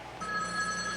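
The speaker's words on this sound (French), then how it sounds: "She dialed me there, but it rings here." An old telephone rings steadily, a continuous electronic bell tone that starts abruptly and keeps sounding at close range, alone with no voices.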